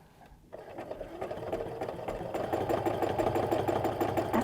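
A sewing machine free-motion quilting a stipple meander pattern, starting after a brief quiet moment and then running as a steady, rapid mechanical whir and needle clatter that grows slightly louder, close by, with no talking.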